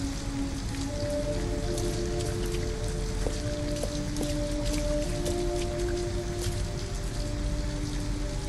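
Steady rain pours down in the video game Detroit: Become Human, a dense, even hiss outside a building with faint tonal background music, no talking.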